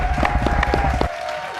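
Brief scattered clapping for cyclist Mr. Steinhorst, a small group applauding for about a second before stopping, with a steady tone running underneath.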